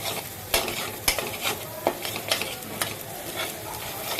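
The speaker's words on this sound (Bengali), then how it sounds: "এখন এই ডিমটা এর মধ্যে আমি একটু কষিয়ে নিচ্ছি, যাতে করে এর মধ্যে মশলাটা ঢুকে যায়।" Spiced fish roe sautéed in a sizzling pan, with a steady frying hiss broken by repeated spatula scrapes and knocks at an uneven rhythm, close and fairly loud.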